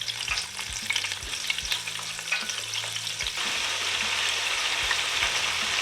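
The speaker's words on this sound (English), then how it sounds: "we are ready to get it into the deep fryer" Cajun alligator bites deep frying in a deep fryer, a dense steady sizzle and crackle of hot oil with bubbling that swells slightly louder midway, close and continuous with no talking.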